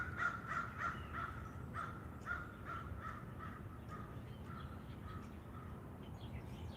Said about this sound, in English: I think it might have been a crow.